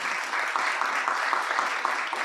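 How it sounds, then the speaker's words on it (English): An audience applauds at a health summit, with steady, even clapping from a room full of people, loud and continuous from start to finish. "please give Prof a round of applause"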